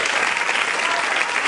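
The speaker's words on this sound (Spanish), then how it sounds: "Give him a round of applause." An audience breaks into continuous, dense applause, close and loud, with a faint voice mixed underneath.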